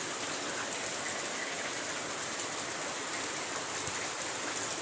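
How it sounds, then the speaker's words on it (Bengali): Steady, even monsoon rain patters continuously on leaves and pink lily flowers, a dense hiss of droplets with no voices. "এই যে বর্ষাকাল বৃষ্টি হয়ে যাচ্ছে"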